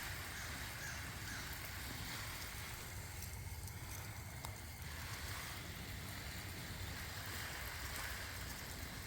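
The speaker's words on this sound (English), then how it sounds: "Water this stuff in the green stalk a little bit." Water sprays steadily from a hose onto garden plants, lemongrass among them, making a continuous close hiss and patter with no pauses.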